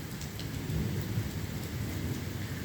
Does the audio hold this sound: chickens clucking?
no